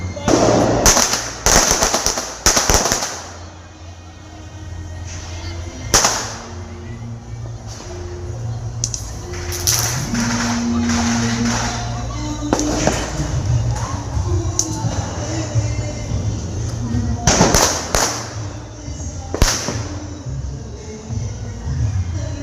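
Diwali firecrackers burst in a series of loud, sharp bangs at dawn, some in quick clusters and others spaced apart, with crackling and a lingering crowd murmur between explosions.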